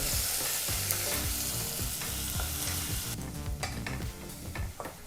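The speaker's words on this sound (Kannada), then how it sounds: "ಬಹಳ ಚಿಕ್ಕದಾಗಿ ಕಟ್ ಮಾಡಿದಂಥ ಒಂದು ಈರುಳ್ಳಿನ ಹಾಕಿ ಎರಡರಿಂದ ಮೂರು ನಿಮಿಷ ಈರುಳ್ಳಿನ ಚೆನ್ನಾಗಿ ಫ್ರೈ ಮಾಡ್ಕೋಬೇಕಾಗತ್ತೆ" Finely chopped onion sizzles in hot oil and ghee for green ghee rice, a steady close frying hiss with a spoon scraping and stirring the pan.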